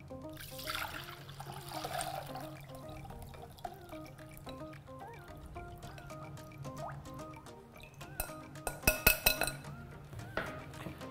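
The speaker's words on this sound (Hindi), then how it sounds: "हम यूं इसे साफ करेंगे जस्ट अ मिनट, और उसके बाद इसे हम छान लेंगे।" Soaked poha (flattened rice) is rinsed in water in a kitchen: soft swishing and dripping with light clinks of a vessel, faint and steady, growing busier with splashy drips near the end.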